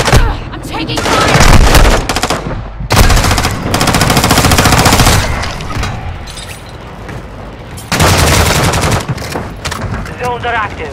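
Dense, loud gunfire from a Call of Duty Modern Warfare 2 match: sustained automatic bursts and booms stacked almost without pause, with game voice lines mixed in under the shooting.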